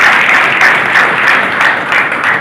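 Loud, dense applause fills a community gathering of the Sindhi society at a health talk, steady and sustained from start to end with no voices standing out.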